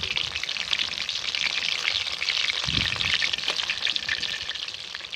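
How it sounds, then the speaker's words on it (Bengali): Aubergine fritters (beguni) sizzle in hot oil with a steady, close, continuous crackle and hiss, the frying noise running alone without talk. "এবার এগুলোকে উল্টে পাল্টে খুব সুন্দর করে ভেজে নেব।"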